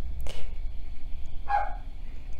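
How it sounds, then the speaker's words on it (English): A dog barks twice, a short sharp bark followed a second later by another, over a low steady rumble of wind from summer storms. "My dog has decided to bark"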